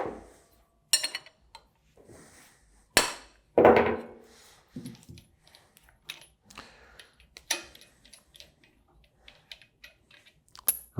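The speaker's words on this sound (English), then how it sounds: "dead blow mallet." A dead blow mallet striking the jam nuts on a Waukesha Universal 1 PD pump, with sharp, irregular knocks and metallic clinks spaced by quiet pauses, close and fairly soft overall.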